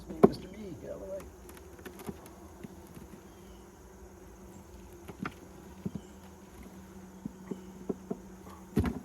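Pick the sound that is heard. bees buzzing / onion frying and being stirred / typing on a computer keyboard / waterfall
bees buzzing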